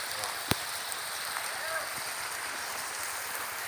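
Steady rain falls at an outdoor Thai street food stall where snake is being stir-fried, a faint even hiss with one sharp knock partway through.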